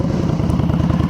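A Victory Octane motorcycle fitted with the short version of the RPW Convict 2 full exhaust idles up close, a loud, deep, rapid low pulsing with a slight mechanical clatter, steady and unbroken.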